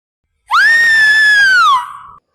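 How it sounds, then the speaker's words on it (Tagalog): A single loud, sustained scream rises sharply, holds for over a second, then trails off in a falling wail, performed close and clear in a radio drama. "noong nakarinig pa kami ng hiyaw"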